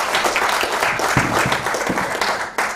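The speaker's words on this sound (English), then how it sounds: "So please give her a round of applause." An indoor audience at a talk on commercial building control systems gives a round of applause, dense overlapping clapping that is fairly close and loud throughout, with a brief murmur underneath.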